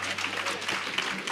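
Audience at a community outreach gathering applauding a health and wellness department, a short steady burst of clapping that fills the whole moment.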